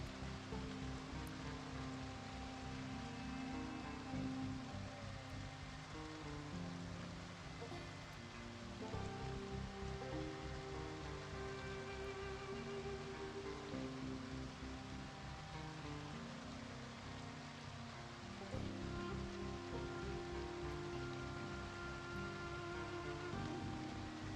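Rain falls in Project Zomboid, a steady soft patter and hiss that stays even and fairly quiet throughout, with faint in-game tones underneath and no talking.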